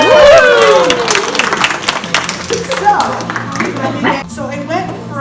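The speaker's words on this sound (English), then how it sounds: "Let's give her a round of applause." Audience applause and clapping in a room after a child's slime-making science demonstration, a dense patter of hands with a crowd murmuring and a voice talking over it, fading toward the end.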